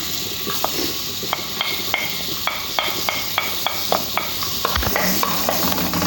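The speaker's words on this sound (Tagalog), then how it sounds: "Guys, dito tayo sa kaldero magluluto guys. Guys. Yan, igisa muna natin guys." Sautéing in a kaldero cooking pot with a little oil, the start of a monggo and kalabasa dish: a steady hissing sizzle broken by regular light ticks and scrapes from stirring.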